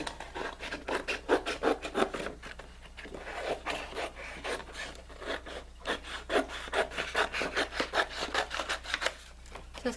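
Paper being cut for a Christmas-themed traveler's notebook fold, heard as a close series of dry, rhythmic scraping strokes and rustles repeating steadily throughout.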